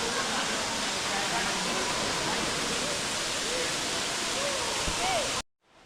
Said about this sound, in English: Like again at the waterfall.